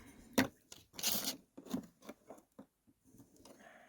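Boulder opal being sanded flat by hand on sandpaper: close, dry scratchy rubbing strokes in irregular bursts with short pauses between them, no voices.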